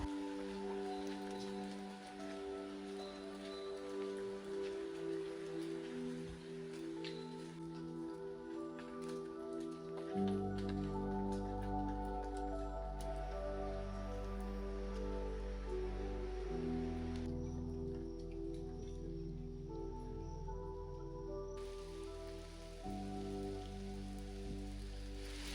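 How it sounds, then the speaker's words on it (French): Steady rain falls in an ancient Australian rainforest, a constant soft patter of drops on leaves and surfaces heard under sustained background music, with no voices. "Il pleut, il pleut, il pleut. C'est la rainforest, la forêt de la pluie."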